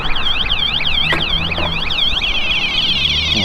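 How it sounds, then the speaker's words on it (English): An e-bike's alarm blares loud and close, a rapid warbling siren tone that sweeps up and down steadily before settling into a higher, more even pitch, with no talk over it. "why my alarm's going off."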